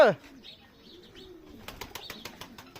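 Pigeons kept by a poultry keeper give soft coos and a brief burst of rapid wing flapping nearby, with chirps and a voice talking over the birds.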